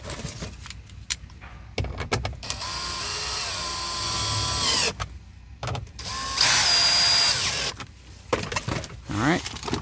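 A power drill drives 7mm bolts back into the cabin filter housing of a 2017-2022 Ford Super Duty. Several short whirring bursts are followed by two longer runs, up close and loud, between clicks and handling noise.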